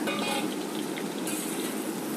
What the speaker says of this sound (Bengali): এইভাবে আবারও একটু নাড়াচাড়া দিয়ে ভেজে নেবো